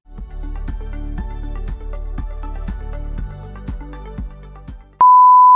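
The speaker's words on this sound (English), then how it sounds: "One long beep, meaning RAM error, commonly indicates a failure to detect or access memory." A computer BIOS beep code on a PC signalling a RAM error, heard as a long series of sharp, evenly spaced electronic beeps that ends in one loud sustained tone.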